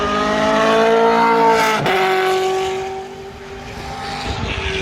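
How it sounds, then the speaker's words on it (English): Renault Formula One race car passing at speed on the Brands Hatch Indy circuit, its loud engine note sweeping past with a sharp pitch drop as it goes by, then fading into the distance. "And also now we have the Renault F1 car coming past."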